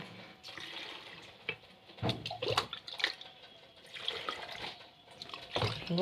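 Water poured from a tap into glass jars of green olives being pickled at home, a steady splashing fill with louder gushes in bursts, close by and without talk.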